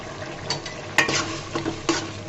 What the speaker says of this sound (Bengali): শাকটাকে আমি আর 2 মিনিট মতো রান্না করব।